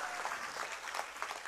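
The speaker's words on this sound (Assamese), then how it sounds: "দিয়ক সকলোৱে ধুনীয়া হাত চাপৰি এটা গৌতম দাসৰ কাৰণে" A crowd at a BJP public meeting in Assam claps for Goutam Das, a faint, distant wash of continuous applause lasting the whole moment.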